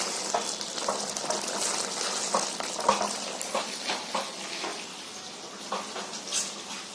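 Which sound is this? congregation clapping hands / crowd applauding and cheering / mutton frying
mutton frying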